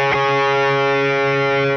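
A distorted electric guitar rings out two notes together, an inverted fifth, as one thick, sustained power-chord tone after a quick pick attack.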